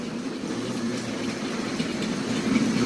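An OO gauge model train with Simplex couplings runs steadily along its track with a continuous rolling rumble and faint rhythmic clatter, fairly close and even in volume, slowing down and speeding up at random.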